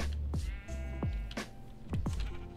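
Sheep in a Minecraft-style video game farm bleat several times in short, separate calls, quiet and close with brief gaps between them.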